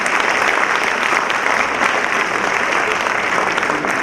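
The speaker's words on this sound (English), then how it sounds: "A big round of applause for HFCL." Dense, loud audience applause at a school annual day event, steady continuous clapping from a large crowd throughout.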